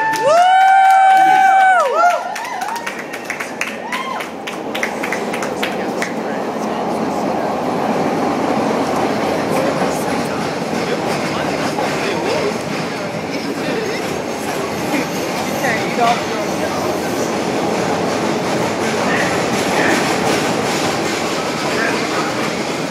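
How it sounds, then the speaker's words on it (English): A Chicago CTA Red Line metro train bound for Howard rumbles along with a steady roar and rattling wheels, opening with a brief high squeal and voices near the start. "This is a red line train to Howard."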